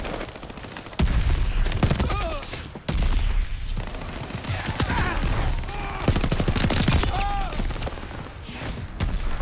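A Type 11 machine gun fires in the shooter game Call of Duty Vanguard. Loud rapid bursts of automatic fire come in several long strings, mixed with other game effects.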